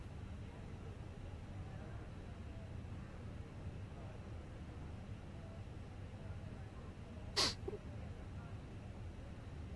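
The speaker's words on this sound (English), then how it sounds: "I have to sneeze, sorry." A single short, sharp human sneeze bursts out suddenly over a quiet, steady background hum.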